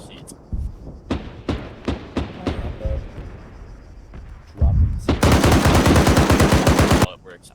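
A Browning .50 BMG M2HB heavy machine gun fires, first as a string of single loud booming shots with pauses, then as a long, thunderous sustained burst of rapid heavy rounds, close and dominant.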